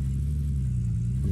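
A vehicle engine drones steadily in Gold Rush: The Game, a low, continuous rumble with a faint whir, heard alone and fairly close for a brief stretch.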